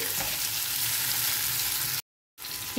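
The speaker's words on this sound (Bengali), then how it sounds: "দেখো কুমড়োগুলো কিন্তু প্রায় ভাজা হয়ে এসছে" Pumpkin pieces fry in a pan with a steady, close, even sizzle that cuts out into silence for a moment before resuming.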